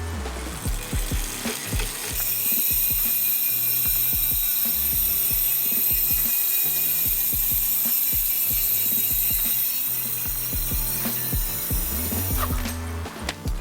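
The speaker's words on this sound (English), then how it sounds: "That was the rear hub sound." Rear hub freewheel of an Open UP gravel bike ticking rapidly as the wheel coasts, producing a steady, close mechanical ratchet buzz that holds for several seconds, then slows and stops near the end.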